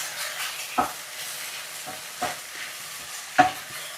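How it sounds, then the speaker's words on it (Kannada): Okra pieces being stir-fried on medium heat in a home kitchen pan for crispy hotel-style bhindi fry, a steady soft sizzle broken by three brief stirring scrapes, close and moderately loud, with no talk. "ಇವಾಗ ಮೀಡಿಯಂ ಅಲ್ಲಿ ಇಟ್ಕೊಂಡು ಹುರಿಬೇಕಾಗುತ್ತೆ ನೆಕ್ಸ್ಟ್"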